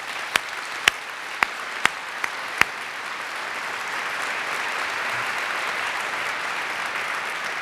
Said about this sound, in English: How about a round of applause for all those good folks?